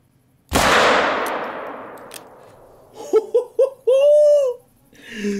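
A single sharp revolver shot in The Hunter: Call of the Wild cracks loudly and rings out in a long, fading outdoor echo, followed by brief vocal sounds.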